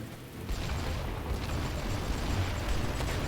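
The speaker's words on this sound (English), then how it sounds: "Fire the cannon at that." A tank cannon booms in a video game amid a dense, sustained rumble of battle noise and engine drone, with no distinct separate blasts standing out.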